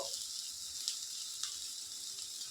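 Fish fries in a pan with a soft, steady hiss of hot oil, faint and even throughout, with a couple of small crackles.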